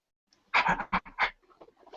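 A dingo pants in rapid, breathy bursts inside a car at night, close to the microphone, with a few short louder huffs followed by quieter breaths.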